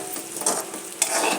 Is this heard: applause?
no